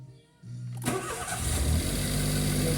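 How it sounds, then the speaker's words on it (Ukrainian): A Smart Fortwo car's engine, recently repaired after not starting following a crash, cranks briefly and catches, then settles into a steady close idle that holds to the end. "автомобіль запустився."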